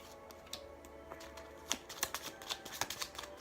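Tarot cards shuffled and drawn at close range, a scattering of crisp slaps and riffles that quicken into a busy run of snaps, with no talking.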